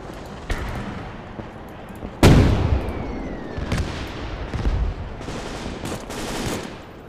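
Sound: artillery fire in the video game Gates of Hell

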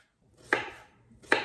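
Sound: knife chopping half an apple into small cubes

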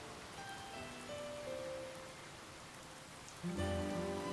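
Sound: rain in the video game Harvestella

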